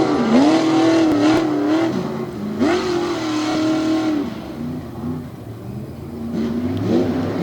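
Off-road trucks race at a Tough Trucks Challenge Championship, engines revving hard and rising and falling through gear changes as they tear around the course, loud and close, with distant crowd noise beneath.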